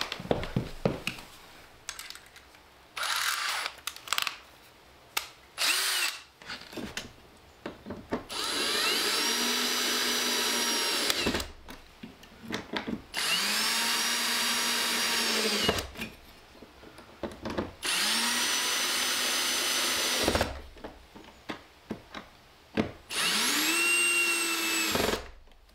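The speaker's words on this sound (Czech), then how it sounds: "Tak se vezmu vrtačku." A power drill runs in several long bursts of whirring, each several seconds, as electrical work is done on a tiny house, with rattling handling noises between bursts.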